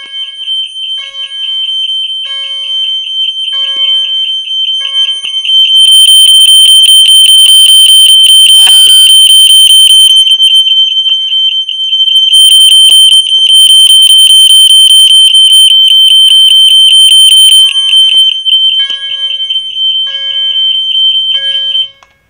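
A loud, piercing fire alarm beeps in a steady pulsing pattern, then shifts to a continuous shrill tone, very close, with brief voices in between.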